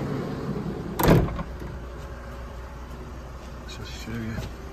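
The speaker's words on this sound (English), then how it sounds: "You've got twin sliding doors." Sliding side door on a 2021 VW Transporter T6.1 Shuttle minibus gives one loud, short slam near the start over quiet ambient background, with a fainter rumble later.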